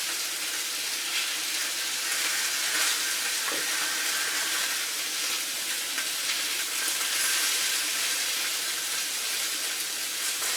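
Venison shanks sizzle on a flat-top griddle, a dense, steady frying hiss heard close with no talking.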